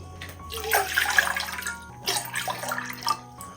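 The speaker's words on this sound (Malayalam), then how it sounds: "ഇനി ഒരു പാത്രത്തിലേക്ക് 3 കപ്പ് വെള്ളം ഒഴിച്ചു കൊടുക്കാം." Three cups of water poured into a cooking vessel for a tomato and coconut curry, a close, splashing gush in two bursts over a faint steady musical tone.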